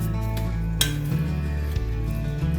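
A lid goes onto a glass jar of eggs preserved in lime water, a sharp glassy clink followed by softer scraping and light knocks of the lid settling, close and alone.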